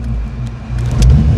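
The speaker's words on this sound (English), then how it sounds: "I'm just impressed with the car's idling" A 1989 Ford Mustang with a 5.0 engine idles with a loud, steady low rumble, slightly uneven and swelling a little near the end, close by and with no talk over it.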